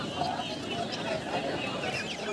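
Busy, dense chirping and clucking from a crowd of Giriraja chicks, continuous and close, with a voice talking faintly underneath, at a market in Ponmalai, Trichy.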